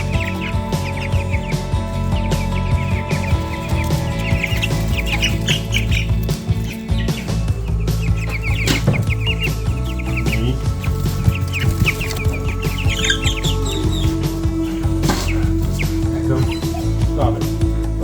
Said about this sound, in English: we got a box full of chickens